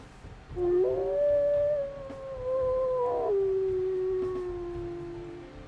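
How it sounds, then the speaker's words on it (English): A game wolf in WolfQuest lets out a single long, clear howl close up, rising and then sliding down with a brief break midway, heard alone with no talking. "His primary howl is 8."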